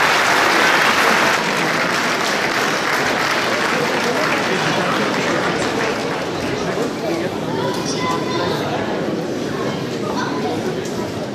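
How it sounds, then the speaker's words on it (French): Sustained applause from an audience at a New Year's greetings ceremony, a dense steady clatter of many hands filling the room and fading only slightly toward the end. "Vous pouvez les applaudir grandement"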